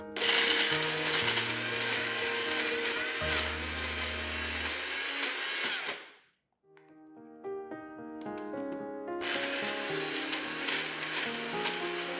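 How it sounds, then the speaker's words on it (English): An electric blender whirs steadily as it purees chicken rendang spice paste ingredients with a little oil, running loud for about six seconds, then cutting out before a brief lull and another noisy stretch. "Blend all the ingredients till smooth."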